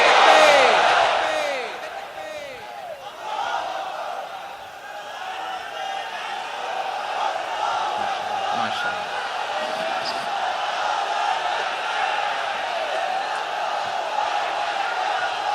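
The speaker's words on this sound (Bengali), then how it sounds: "তাকবীর পড়ুন, লিল্লাহি তাকবীর।" A large crowd at a Bangla waz sermon by a preacher chants the takbir, 'Allahu Akbar'. A loud burst of massed voices opens, then settles into a sustained, blended roar of chanting that carries on steadily.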